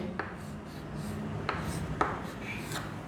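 Close, quiet scratching of a pencil writing Hindi letters on paper, in short strokes with a few sharper taps against a soft background hum.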